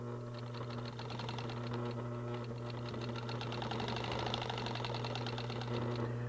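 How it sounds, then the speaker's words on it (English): Sewing machine stitching fabric, a steady rapid mechanical whirring and clatter of the needle that runs continuously at an even pace, close and moderately loud with a constant motor hum beneath. "Now you can stitch right over these needles that have pinned them together."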